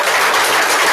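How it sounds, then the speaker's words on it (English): A brief, dense burst of audience applause during a ranking announcement at a team event, steady and loud across the whole second with no talking. "Round of applause."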